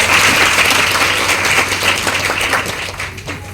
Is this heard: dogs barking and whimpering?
no